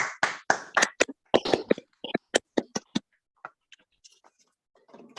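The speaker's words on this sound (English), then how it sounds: "Now it's time for the always unsatisfactory round of applause for our speaker" A small group claps briefly and unevenly for a speaker on Zoom, the claps thinning out into a few scattered taps before stopping.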